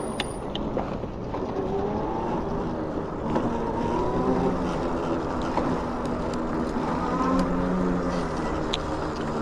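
An Aventon Sinch e-bike fitted with a BBSHD mid-drive motor accelerates in first gear, a steady close whine that rises in pitch over continuous wind rush against the microphone.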